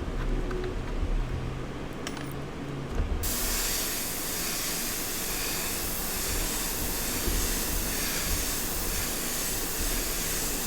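Airbrush loaded with carbon black spraying in a steady, continuous hiss that starts abruptly a few seconds in and holds evenly to the end, close and fairly loud, with a quieter room tone before it.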